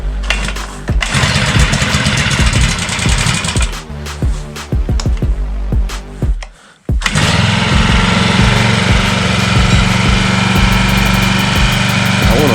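A Mini 40 four-stroke kids' dirt bike engine in a garage stutters through a few tries, cuts out briefly, then catches and runs steadily at a loud, buzzy idle close by.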